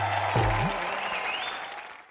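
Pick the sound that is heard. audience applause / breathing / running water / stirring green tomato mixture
audience applause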